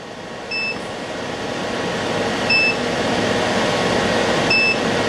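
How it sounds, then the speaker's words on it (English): Portable power station beeping during a load test: three short, high electronic beeps spaced about two seconds apart, audible over a loud, steady fan hum. "It's making an audible beep."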